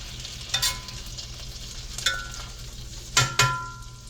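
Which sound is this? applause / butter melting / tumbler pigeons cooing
butter melting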